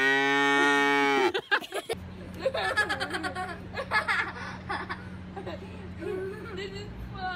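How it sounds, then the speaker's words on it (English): A cow gives a long, loud moo up close, followed by people laughing and chatting nearby. "What's the cow say?"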